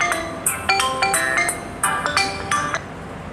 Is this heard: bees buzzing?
no